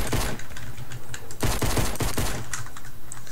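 Rapid pistol shots in the Fortnite video game, a quick run of sharp, evenly spaced cracks heard close and alone without talk.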